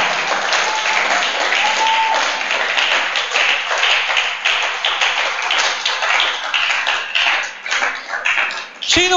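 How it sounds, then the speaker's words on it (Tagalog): Filipino church congregation clapping for the Lord in a loud, continuous round of applause with crisp, closely packed claps, fading unevenly near the end before a sudden sharp sound closes it. "Palakpak sa Panginoon."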